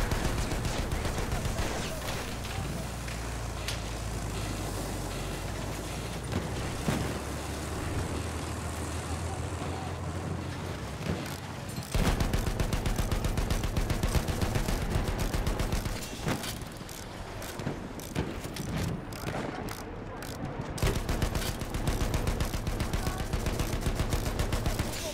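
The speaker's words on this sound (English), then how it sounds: "Of course, the big fucking tank is the one that's getting shot." Rapid gunfire rattles against a large tank in Battlefield 1, with dense clattering bursts and impacts over a rumbling engine and battle din that continues throughout.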